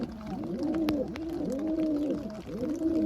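Pigeons coo steadily inside a rain-soaked wooden pigeon box, soft rolling calls repeating in overlapping cycles, close and moderately loud with a few faint knocks.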